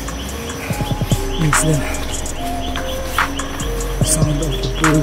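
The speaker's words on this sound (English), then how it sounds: "sound of the birds, chirping birds around." Birds chirp and tweet in quick, bright bursts over a steady insect drone in a rainforest on Mt. Isarog, Philippines, with someone briefly speaking beneath the calls.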